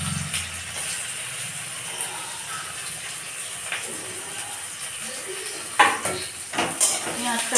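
Chopped onions frying in oil with bay leaf, whole garam masala and cumin, a faint sizzle under clinks and scrapes of a spoon against the pan, with a sharp metallic clatter near the end.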